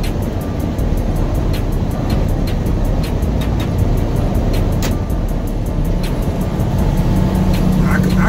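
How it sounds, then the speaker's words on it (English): A Freightliner flatbed truck's Jake brake engages on a mountain descent, a loud, continuous low rumble with rapid repetitive clatter, heard from inside the cab. "You hear the Jake brake cutting on by itself now."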